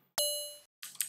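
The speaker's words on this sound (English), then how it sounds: "FM ping kind of sound" A Nanoloop 2.8.2 FM synthesizer voice sounds a single bright, bell-like ping, a clean metallic tone that rings for about half a second and fades. A second, noisier and shorter burst follows.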